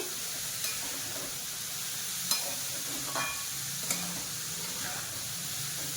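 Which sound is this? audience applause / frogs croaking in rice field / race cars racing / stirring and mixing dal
stirring and mixing dal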